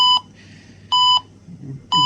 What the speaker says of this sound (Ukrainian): Ну, 34, все, спрацювала сигналка. Постійно буде пищати, бо перевищено безпечну норму.